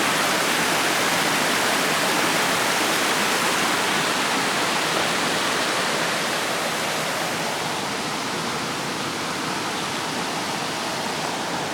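A creek flows and rushes steadily, a dense, loud wash of water running unbroken and close by with no voices.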